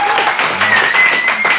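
A comedy panel show's studio audience breaks into a short burst of clapping that stays dense and even, with a few voices and whoops mixed in.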